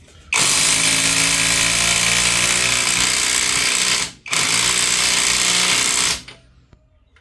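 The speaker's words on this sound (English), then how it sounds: "Will my Japanese or my Chinese nut gun have the power?" A Chinese impact nut gun hammers at a 30 mm drive shaft nut on a VW Mk3 Golf, a loud rattling buzz in two close bursts separated by a brief pause, then falling quiet.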